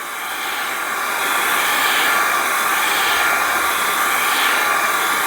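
Hair dryer blowing steadily on an alcohol ink painting, a loud continuous broadband whoosh that swells slightly as it moves closer, with no voices.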